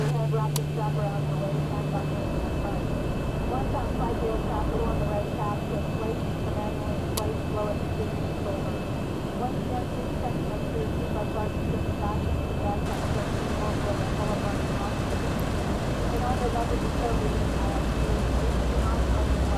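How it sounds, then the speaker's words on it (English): Number 1 jet engine starting up on a Southwest Airlines airliner, a steady, loud, continuous roar and whine that holds evenly throughout, with a slight shift in tone partway through. "once it clicks, we can start number 1 engine."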